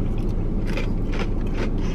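Crunchy waffle pieces bitten and chewed close up at an Amish Country food stop, with several crisp crunching bursts spaced about half a second apart over steady low background noise.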